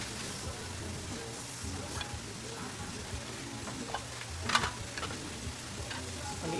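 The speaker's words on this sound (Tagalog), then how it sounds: "Prito na natin lahat ng lumpia." Lumpia spring rolls fry in hot oil with a soft, steady sizzle and faint crackling ticks, one brief sharper pop partway through, heard close and quiet without talk.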